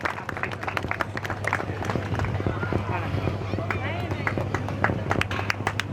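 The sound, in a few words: audience applause at a ceremony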